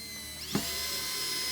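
A power drill drives a Phillips head screw into pine, a steady high mechanical whine with a brief thump and pitch shift as the screw seats, close and continuous.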